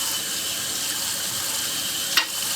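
Tap water runs steadily into a container while measuring out about a cup of slightly warm water for a sourdough bread mix, a continuous close hiss with a brief splash or knock near the end.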